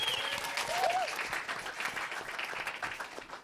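Sustained applause and cheering from an audience at a Space City Classic 2021 media day event in Houston, a dense wash of clapping held steadily throughout at moderate distance.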